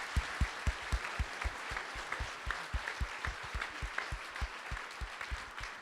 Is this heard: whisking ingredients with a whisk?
no